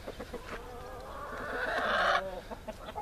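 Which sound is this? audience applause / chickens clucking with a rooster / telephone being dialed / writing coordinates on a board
chickens clucking with a rooster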